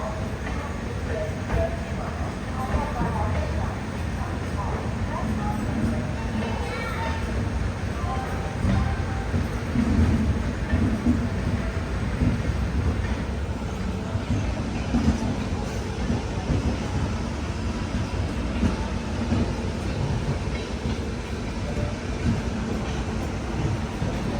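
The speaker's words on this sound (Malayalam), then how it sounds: "ഇത് ഹൗറയിൽ നിന്ന് മുംബൈയിലേക്ക് പോകുന്ന എക്സ്പ്രസ് ആണ്" The Howrah–Mumbai CSMT express rolls along with a continuous loud rumble and rattle of wagons on the rails, sustained steadily with no break.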